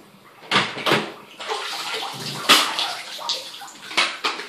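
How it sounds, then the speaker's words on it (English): Water gurgles and splashes in short bursts, sloshing into an airsoft shotgun's chamber with a few sharper spurts. "Water goes into the chamber."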